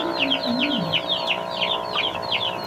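Neighbour's chickens kept at a Philippine home cluck in a steady series of short, repeated calls, fairly close and continuous over a low background hum.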